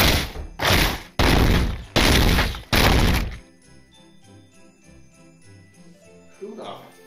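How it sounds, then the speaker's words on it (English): Heavy banging on a door late at night, five loud evenly spaced thuds in quick succession, followed by quieter background music and sound. "banging on the door this late at night"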